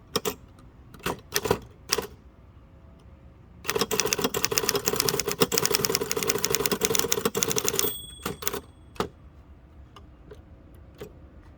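Bursts of keystrokes on a 1933 Underwood four-bank portable typewriter used outdoors, a few scattered clacks then a long rapid run of typing, with faint outdoor background noise between strikes.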